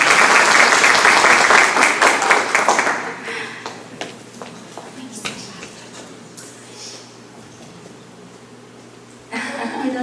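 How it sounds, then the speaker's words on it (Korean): Audience applause at a parents' seminar on economics education, brisk clapping for a few seconds that quickly dies away into scattered taps and room noise before a voice starts speaking. "박수 부탁드리겠습니다."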